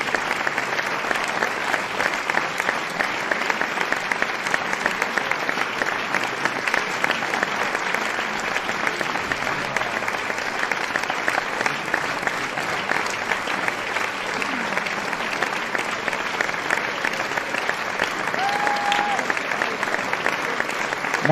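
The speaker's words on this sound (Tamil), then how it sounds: "ஒரு பெரிய கைத்தட்டல்." Applause fills a live concert hall, a dense, even crackle of many hands clapping that lasts throughout, with a brief faint tone near the end.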